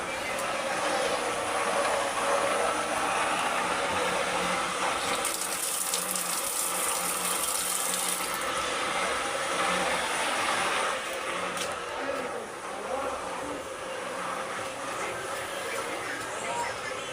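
A water pump runs after an automatic pump controller switches it on, producing a loud, steady rushing and whirring drone throughout, with someone talking over it.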